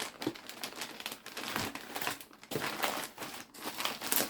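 Cardboard boxes of graded items from PSA are opened indoors, with steady crinkling and rustling of packaging and bursts of scraping and tearing at moderate loudness, with no talking.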